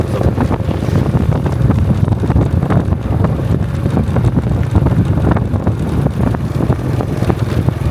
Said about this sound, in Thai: ลมพัดแต่ใต้ขึ้นเหนือ